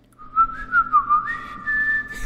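A single person whistles a short, wavering melody up close in an NCT 127 'Favorite' music video teaser, clear and bright against a quiet background.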